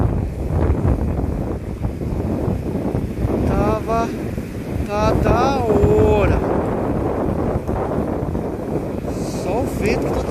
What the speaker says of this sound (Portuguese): Só o vento que tá atrapalhando